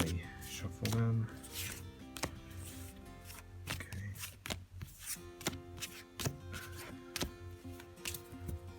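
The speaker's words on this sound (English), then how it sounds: "Just randomly shuffle them." Tarot cards are shuffled by hand in a series of soft, irregular riffles and flicks, close and fairly quiet, with a few sharper card snaps.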